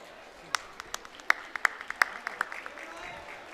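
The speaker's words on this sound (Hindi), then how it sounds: "बस जोरदार वाली तालियां हो जाए सब की तरफ से" A sparse scattering of individual hand claps from a small gathering, a dozen or so separate sharp claps spread unevenly over a few seconds rather than loud sustained applause.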